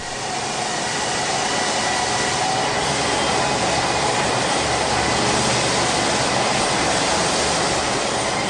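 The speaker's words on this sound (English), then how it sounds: "smaller wheels driven by powerful electric motors spin the big 55-inch tyres in the reverse direction" Powerful electric motors spin 55-inch Airbus A380 landing gear tyres on a test rig, making a loud, constant broadband roar and whirr that holds steady throughout, close and alone.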